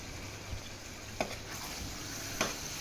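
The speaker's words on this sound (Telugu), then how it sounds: "ఇప్పుడు మూత పెట్టుకొని ఒక 3 to 4 minutes మనము ఆయిల్లోనే మనము ఈ చికెన్ అనేది ఫ్రై కానివ్వాలి" Chicken frying in oil inside a covered pan, a steady soft sizzle under the lid with a few faint clicks and knocks.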